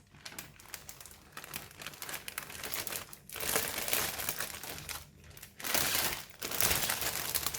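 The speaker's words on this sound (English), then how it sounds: "I'm going to use the plastic bag like this" A plastic bag crinkles and rustles continuously at close range, swelling louder in bursts as it is handled while preparing roasted chicken.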